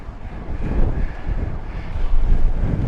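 Strong wind buffets the microphone while cycling near Girona, a continuous loud roar gusting slightly stronger toward the end.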